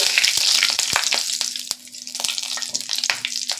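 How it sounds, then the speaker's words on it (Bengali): Kasuri methi and black cumin fry over low heat in a pan, a close, bright crackle and sizzle with sharp pops and scraping stirs throughout. "আমি কষরি মেথি আর কালো জিরে দিয়ে ভালো করে একটু ভেজে নিচ্ছি"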